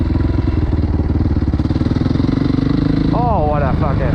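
Motorcycle engine running close and loud throughout with a steady rapid pulsing, then revving up near the end as a rider works on a wheelie, with a voice briefly talking over it.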